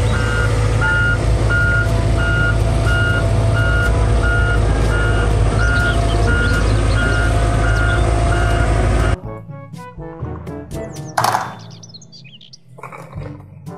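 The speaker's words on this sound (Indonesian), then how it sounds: "Mobil garuk ekskavator." A toy excavator truck plays a loud engine rumble with rhythmic reversing beeps for about nine seconds, then stops, followed by faint clicks and a brief chirpy electronic tone.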